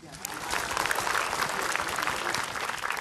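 An audience at an Islamic religious lecture breaks into applause. Dense, steady clapping from many hands builds quickly and stays loud for the whole few seconds.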